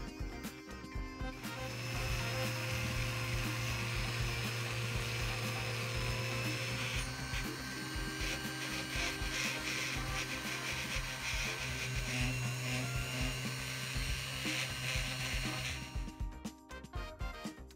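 Dremel rotary tool fitted with a burr carving a Warhammer-style miniature, a steady high-pitched whine running continuously for about fifteen seconds between short quiet moments at the start and end.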